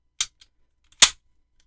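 Hammer of a SIG Sauer P226 X5 pistol with a 4-way adjustable trigger releasing, two sharp metallic clicks close up, a faint tick between them, otherwise silence.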